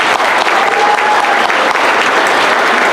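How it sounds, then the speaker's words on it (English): A crowd at a labor council awards dinner applauds in a loud, continuous wash of many hands clapping at once, sustained and evenly dense for three seconds with no talk over it. "Everybody, big round of applause for our members."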